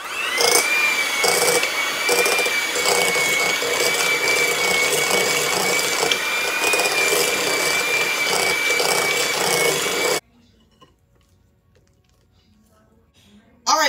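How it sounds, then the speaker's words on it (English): An electric mixer creams room-temperature cream cheese on medium speed, a steady loud whirring drone lasting about ten seconds before it cuts off to near silence, with a brief noise at the very end. "we're going to cream this on medium speed until it's fluffy."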